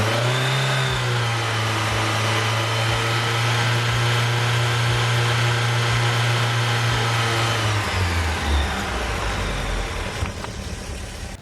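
A VW Golf Mk1 with a swapped 2.0L 8-valve engine runs on a dyno, holding a loud, steady rev with a pulsing rhythm for several seconds, then the note drops sharply and the engine winds down toward the end.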